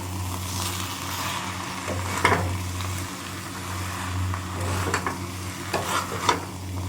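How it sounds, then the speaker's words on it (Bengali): Mixed vegetables are turned over slowly in a frying pan, giving a continuous sizzling hiss with scraping stir strokes and a low steady hum underneath, close up and fairly loud. "পুরো সবজিটাকে বা ধীরে ধীরে আস্তে আস্তে করে ওপর নিচ করে নাড়িয়ে নেব"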